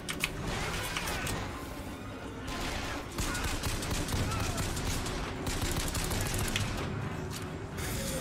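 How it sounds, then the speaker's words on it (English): Rapid machine-gun bursts from a German-style machine gun in the BioShock Infinite video game, a dense sustained fusillade of gunfire running almost continuously through the clip at steady loudness with brief dips. "this is like a German machine gun"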